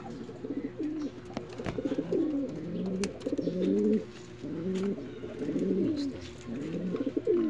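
Pigeons cooing inside their coop cage, a steady run of low, throaty warbling coos overlapping one another at close range with no talk.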